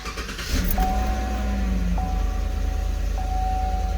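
A 2015 Chevy Silverado pickup with a throttle body fault cranks and catches, its engine settling into a steady, loud, fairly high idle rumble up close, with faint electronic chime tones sounding over it.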